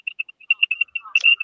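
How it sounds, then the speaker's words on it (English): A mobile phone rings with an incoming call: a quick run of bright, chirping electronic tones in short pulses, close and clear against silence. "That was my phone. Somebody was calling me"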